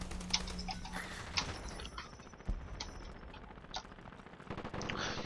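Explosions and bursts of gunfire from the online shooter Dirty Bombs, with sharp blasts, crackling shots and shattering impacts scattered irregularly through a busy, dense battle mix.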